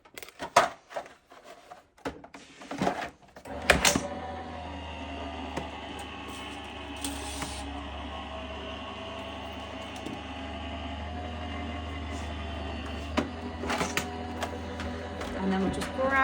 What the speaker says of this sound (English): And then we're going to send that through our Gemini machine again.